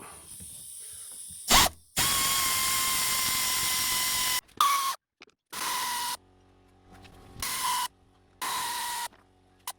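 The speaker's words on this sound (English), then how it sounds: "I've got this power angle wrench, and I'm going to use that on this side over here" A power angle wrench undoes bumper fasteners on a 2011-2015 Hyundai i30 GD, running in several loud, steady whirring bursts of varying length with short pauses between them, heard alone without talk.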